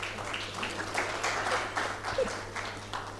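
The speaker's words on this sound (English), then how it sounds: "Then I'd expect us to clap for 1 Acre." Participants at a food security stakeholders' dialogue in Nigeria applaud One Acre Fund, a fairly quiet spread of clapping that swells and fades under a steady low hum, heard from a distance in a large room.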